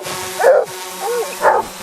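A dog gives two short, close woofs with a soft whimper between them, reacting to a drone. No one speaks.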